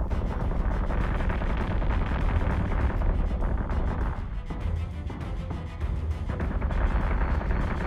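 Space battle in the game Battlestar Galactica with missiles and gunfire, a relentless barrage of booming shots and explosions, loud and close, dipping briefly midway before resuming.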